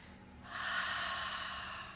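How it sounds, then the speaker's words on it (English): Slow, steady breath drawn in through the nose during a guided centering exercise, a soft airy rush that swells and holds for over a second, close and quiet with no talking. "Take 3 deep breaths"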